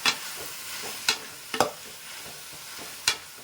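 Tomatoes with salt fry in a pan, a soft continuous sizzle punctuated by several sharp scrapes of a spoon stirring at irregular intervals, close and fairly quiet with no talking.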